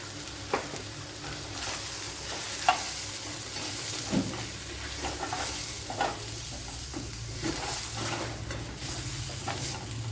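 Chilli powder and asafoetida frying in hot oil for a brinjal curry, a continuous close sizzle and hiss with intermittent spoon scrapes and stirring taps throughout.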